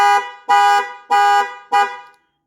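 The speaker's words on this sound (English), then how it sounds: "Hit it again, flashes your lights, honks your horn" An early Ford Super Duty truck's horn honks four times in a steady, evenly spaced rhythm from the keyless entry panic button, loud and close, then stops.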